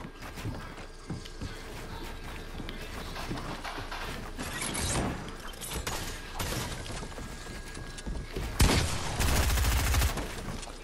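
Rapid bursts of gunfire ring out during a Fortnite match, with dense crackling volleys and sharper single shots rising near the end, loud and continuous across the clip.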